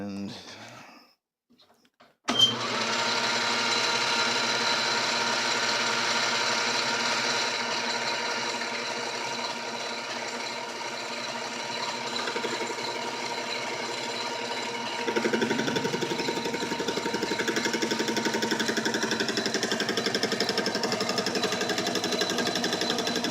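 A metal lathe cutting a part with the carriage engaged after rough bandsaw cutting, giving a steady, loud machining whir and rattle that starts abruptly after a brief quiet pause and continues with a slight shift partway through.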